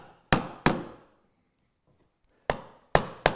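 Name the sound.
chisel chopping wood along a line, bevel down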